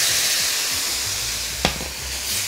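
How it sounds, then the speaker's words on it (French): A splash of pasta cooking water goes into a mushroom sauce in a hot pan, giving a steady, close sizzle with a brief sharp burst of hissing partway through before it settles back. "on y met un tout petit peu d'eau de cuisson"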